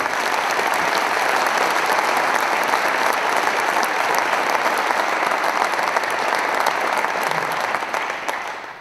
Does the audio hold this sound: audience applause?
yes